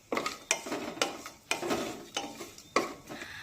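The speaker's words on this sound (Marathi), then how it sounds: "हे ड्रायफ्रुट्स मी 1 मिनिट तुपामध्ये परतून घेतले आहेत" Dry fruits fried in ghee in a pan for about a minute while being stirred, giving a series of regular scraping, clinking spoon strokes over a faint sizzle, close up, with no talking.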